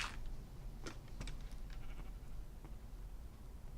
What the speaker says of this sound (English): There's always one noisy sheep,